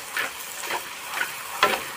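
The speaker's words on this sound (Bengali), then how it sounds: "তো বন্ধুরা দেখো কেমন করে ফুচকাটা ভাজা হচ্ছে।" Fuchka puris deep-frying in hot oil sizzle continuously, with soft crackling bursts recurring about every half second as the puris puff.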